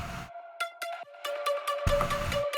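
A synth arpeggio of quick, bright repeated notes over a steady held tone, with a fuller low layer joining near the end.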